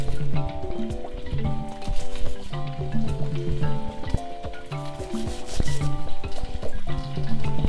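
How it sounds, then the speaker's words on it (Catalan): A serrated knife saws through a large onion, cutting it into small pieces with steady, rhythmic rasping strokes over tonal background music. "Jo utilitzo aquest ganivet de serra que em va molt bé."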